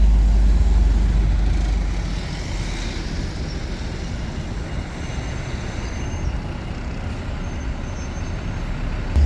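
A double-decker bus on the 189 route to Castleford pulls out at a Wakefield stop, with a deep engine rumble that is loud at first and eases as it moves away, leaving a steady traffic drone.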